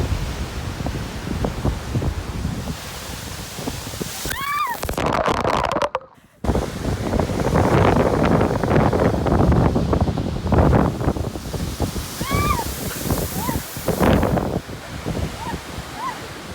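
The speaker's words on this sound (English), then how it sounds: "storms can make for some pretty massive waves, like this one from 2018" Large waves crash and surge onto a lake shore amid heavy wind buffeting the microphone, with a brief dropout midway and faint gull-like calls.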